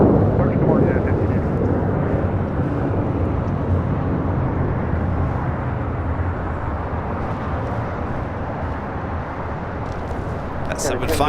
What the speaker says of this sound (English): At 757 taking off